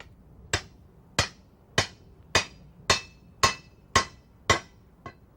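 Nine sharp metal hammer strikes drive a decorative ball finial into the end of a metal tube for a sign post, evenly spaced about half a second apart, close and loud with a brief ring after each blow.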